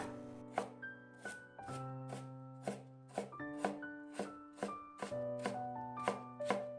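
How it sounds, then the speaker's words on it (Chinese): A knife cuts half a carrot into thin slices and then fine strips, giving a steady run of crisp chops on a board. The chops sit under soft background music, with no voices. "先给它切成薄片，再改刀切成细丝"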